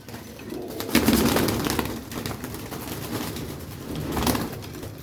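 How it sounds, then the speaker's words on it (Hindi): Pigeons coo in a sunny loft, a low, steady murmur of several birds close by with a louder swell near the start and another near the end. "कबूतर बड़ा आ रहा आज धूप निकली है थोड़ी सी तो कबूतर आना शुरू हो गया"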